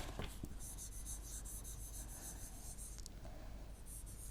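A pen scratches steadily across paper as an SQL update statement is written out by hand, a faint, close, continuous scribbling with a few brief taps.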